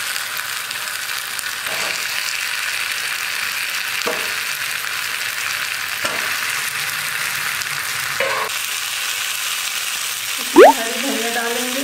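Chana dal fara fry in a pan with cooked tomato and onion, giving a steady, even sizzle throughout, with a few soft scraping stirs and a brief clink near the end.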